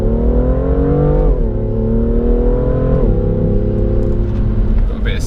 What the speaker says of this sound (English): We'll just floor it out of here in a second once we get to the de-restricted.